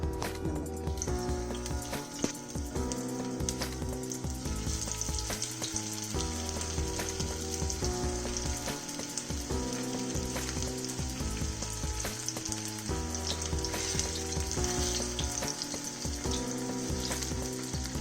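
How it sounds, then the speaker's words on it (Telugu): Fish pieces shallow frying in about four spoons of hot oil over a medium flame, a dense, continuous close sizzle with light stirring under background music, no speech. "ఆయిల్ వేడెక్కింది, ఇప్పుడు ఫిష్ ముక్కలు వేసుకోవాలి."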